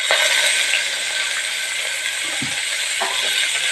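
Chopped big onions frying in oil for mutton biryani, a steady bright sizzle and hiss throughout, loud and close, with faint clinks of a utensil.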